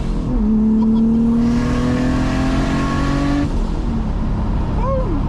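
A big single turbo R32 Skyline GTR accelerates hard from inside the car, its engine note climbing steadily and loudly before the revs drop off, then a short turbo whistle flutters on the lift.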